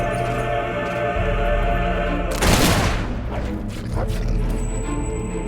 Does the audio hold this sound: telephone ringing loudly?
no